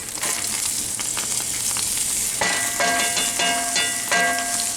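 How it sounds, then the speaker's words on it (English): Onions and garlic hit a hot pan of chicken fat and sizzle loudly and steadily, with a stronger burst of crackling partway through and faint stirring scrapes. "So now I'm going to add my onions and my garlic."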